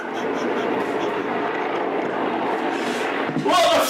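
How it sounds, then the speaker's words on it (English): A helicopter hovers overhead above a house, a continuous muffled rotor and engine drone heard from indoors. A voice briefly breaks in near the end. "Can you hear the helicopter?"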